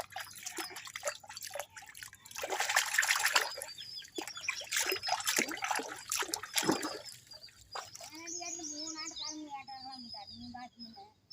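Water drips and splashes irregularly, close by, as banana stem is washed at a water tank, while people talk and a high chirping voice joins toward the end.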